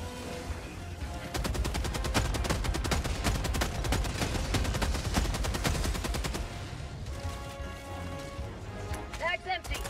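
Rapid automatic gunfire from Helldivers 2 bursts out after a short lead-in and stays loud and dense for about five seconds, then thins into scattered shots and clatter with a voice speaking over the action.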